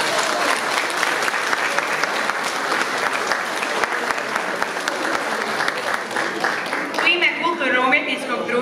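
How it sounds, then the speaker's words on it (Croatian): Big, sustained applause from a crowd at a village folk culture festival honoring all participants, dense clapping throughout, with a voice starting to speak over the last stretch as it fades. "Pozdravimo još jednom velikim pljeskom sve sudionike smotre Blago čuvam"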